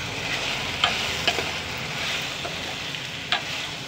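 Taro root pieces stirred into a simmering brinjal and tamarind stew give a steady bubbling sizzle, with a few sharp spoon-against-pot clinks spaced across the stretch, close by and with no one speaking.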